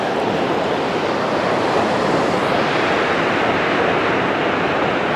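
Surf rolls in on a Bristol Channel beach as the tide rises, a continuous broad wash of breaking waves with some wind noise on the microphone and no speech.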